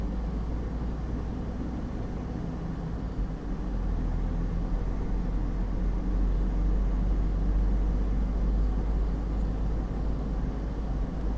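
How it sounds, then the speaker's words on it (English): A car cruises along a tree-lined country road in a small Maine town, its steady low engine and tire rumble filling the cabin evenly throughout, with no talking. "So I'm just going to quietly drive as you guys look at the surroundings full of trees."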